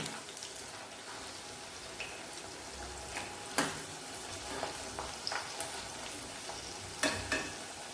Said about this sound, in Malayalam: ഇത് കുറച്ചൊന്ന് ബ്രൗണായി വരുന്ന രീതിയിൽ ഫ്രൈ ചെയ്യണേ.